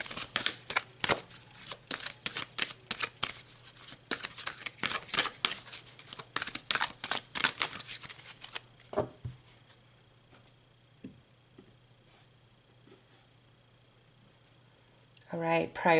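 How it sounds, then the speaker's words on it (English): Tarot cards being shuffled by hand, a dense run of quick papery riffs and flicks for about eight seconds, then near quiet with a low steady hum before a short burst of card handling at the end. "So let's pull some more cards."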